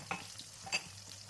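Tomato with garlic and cumin paste cooking in a pan for palak dal bhaji, with a faint sizzle and a few quick spoon scrapes and taps.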